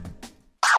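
A single quick, bright scratch stroke from a DJ controller chirp, loud and close, following a faint low background rumble.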